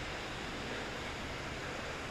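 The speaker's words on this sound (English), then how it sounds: "The waterfall is up here more." Steady, dense rushing water roar filling the whole clip, broadband and constant like a nearby waterfall at Mirabeau Point Park in Spokane, with no voices.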